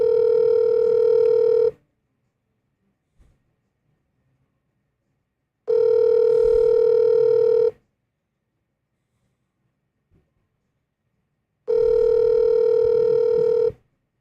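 A telephone rings back three times during an outgoing call. Each steady two-second electronic tone is followed by about four seconds of silence, loud and clear.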